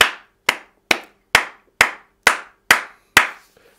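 A congregation at a worship service clapping in unison: eight sharp, evenly spaced claps in a steady rhythm, loud and close, with no voices or cheering.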